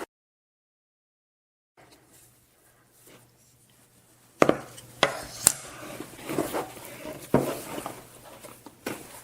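Flour being worked by hand into a stiff 60% pre-ferment dough in a bowl, heard after a quiet start as close, irregular thumps, scrapes and knocks of utensil against the bowl.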